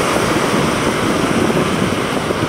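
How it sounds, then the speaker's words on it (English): Small waves roll onto an Atlantic beach on Saint Simons Island, a loud, close, continuous wash of surf with some wind noise, with no voices. "these nice little waves rolling in are just as beautiful"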